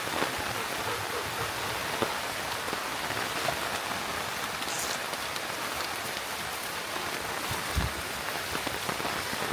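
Steady rain pours onto a Malnad farm plantation, a dense even hiss of drops on surfaces that holds constant throughout with no voices.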